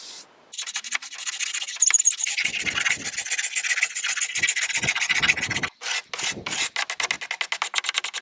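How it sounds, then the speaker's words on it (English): A hand scraper drags repeatedly across the wooden top of a 1930s sideboard, lifting paint stripper residue with close, rasping strokes that speed into a quick rhythmic series of short scrapes toward the end. "there was a little bit of residue on the top, so I just used my scraper to get rid of it"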